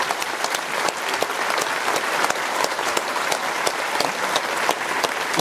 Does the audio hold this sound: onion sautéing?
no